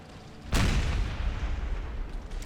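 Several cannons in Empire 2 Total War let loose canister shot at once, a heavy booming blast at about half a second that rolls into a sustained rumbling roar of battle noise.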